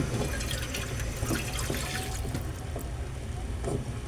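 Water trickles and splashes steadily into a cooking pot, a soft continuous pour with faint drips, fairly quiet and close.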